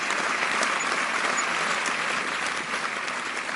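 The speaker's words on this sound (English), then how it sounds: "Let's just give her a round of applause for being who she was" An audience claps steadily for a speaker at a talk on a Harlem Renaissance novelist, a dense, even wash of applause that fills the room from start to finish with no voices over it.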